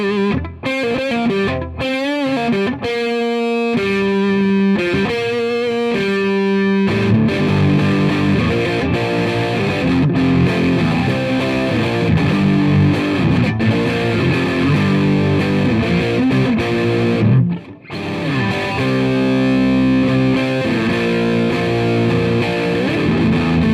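A 1958 reissue Epiphone Korina Explorer electric guitar on its middle pickup position plays a heavily distorted lick. Sustained notes ring loud and close with a brief drop near the end, and no one talks.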